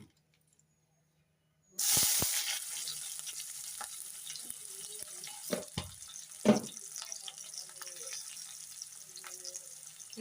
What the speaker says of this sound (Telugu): ఇదే ఆయిల్లో ఉల్లిపాయ ముక్కలు వేసుకుందాం